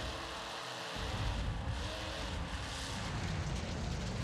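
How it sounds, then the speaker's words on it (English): Monster truck engine roar with tire noise while sliding in the Metal Warriors racing game, a steady loud broadband drone from the motor and tires, continuous and close with no talking. "hear those tires squeal"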